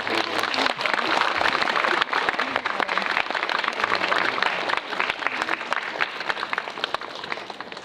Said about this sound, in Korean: 오시는 길이 조금 기니까 좀 박수를 칠까요?